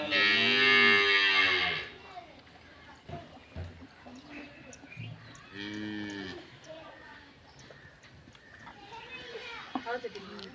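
A calf gives a loud, drawn-out moo at the start and a second, shorter moo midway, while people talk nearby throughout.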